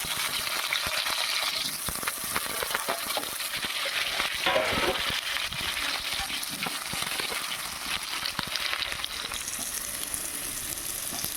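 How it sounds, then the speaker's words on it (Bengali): Steady, close sizzle of potatoes frying in oil, with occasional scraping and stirring clinks throughout, no voices. "এবার আলুটা ভেজে নেবো।"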